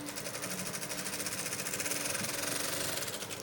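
A sewing machine stitches fabric with a rapid, even mechanical chatter and a steady hum, running continuously at moderate volume with no voices.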